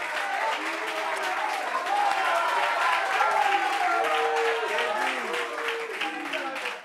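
Steady, fairly loud applause from a studio audience at a talk show, continuous clapping with crowd murmur and some excited voices mixed in throughout.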